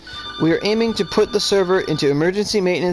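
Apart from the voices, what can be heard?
mobile phone ringing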